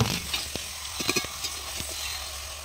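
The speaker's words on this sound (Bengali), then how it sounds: "এবার এটাকে ভালো করে কষানোর পালা।" Marinated chicken pieces are stirred and fried in a hot pan, giving a steady sizzle broken by a few scraping knocks of the spatula, close and clear with no talking.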